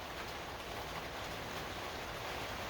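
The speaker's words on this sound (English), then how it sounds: "There's the rain." Steady rain falls in a dense, even hiss throughout, loud and unbroken, with no voices.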